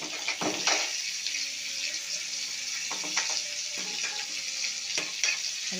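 Bitter gourd pieces sizzle steadily as they fry in a pan, with repeated scraping stirs of a spoon or spatula cutting through the constant loud frying hiss, close up and without talk.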